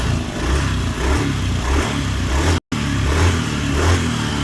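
Honda Beat scooter with a fault that makes it bog down and sputter on its own, engine revved under throttle in a steady, close, loud run with rising and falling surges and one very brief dropout.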